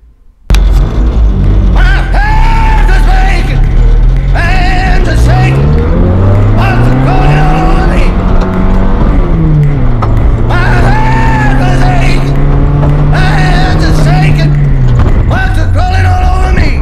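A Honda Civic rally car is driven hard on a dirt track, its engine close and loud, revving and climbing in pitch, then dropping as it shifts and settling into a steady, droning run.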